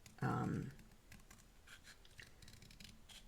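Scissors roughly cut out a paper printable in a craft setting, with one loud crisp snip followed by a few lighter, quieter cuts and paper rustles.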